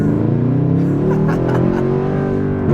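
A straight-piped Mercedes C63 AMG with a loud, raspy exhaust drones while driving, engine pitch rising steadily under acceleration, heard close and continuous from inside the car.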